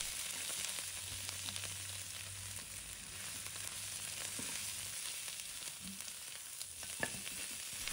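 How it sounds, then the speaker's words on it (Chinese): Pork ribs stir-fried with pickled cabbage in a wok over high heat, a steady close sizzle and crackle with scattered clanks of the spatula against the pan, no voices. "翻炒至表面微微金黄，与酸菜一同翻炒"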